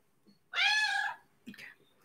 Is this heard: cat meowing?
yes